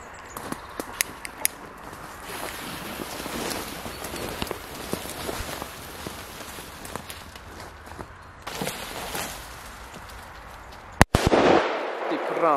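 Firecrackers taped to a dry tree and set off outdoors: one sharp, loud bang near the end after a stretch of crackling and rustling, with people talking around it.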